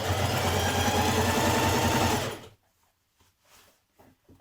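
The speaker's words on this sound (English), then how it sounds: "Now we're going to stitch that waistband in." Sewing machine stitching an elastic-casing waistband on a Burda skirt: a loud, close, steady whirring run that stops abruptly partway through, followed by faint clicks and fabric handling.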